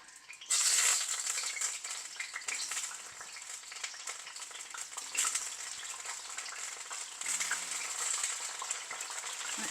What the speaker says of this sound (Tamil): இப்போ நான் இதை பொறிக்கிறதுக்கு இந்த பொறிக்கிற எண்ணெயில் போடுறேன்